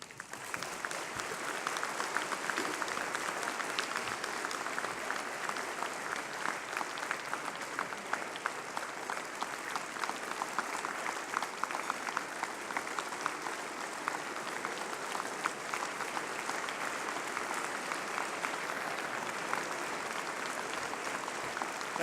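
Sustained applause from a dinner audience welcoming Father Robert Sirico at the Acton Institute 27th Anniversary Dinner, steady dense clapping filling the whole stretch without pause, with no speech over it.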